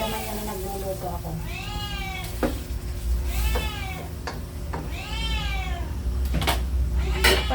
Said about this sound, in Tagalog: Humihingi na ng pagkain yung pusa ko dun.